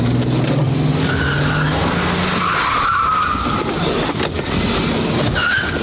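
A newly delivered hypercar does a tire burnout, its rear tires spinning until they bubble near bursting. A loud, continuous squeal wavers and rises over a deep engine roar, with no talking.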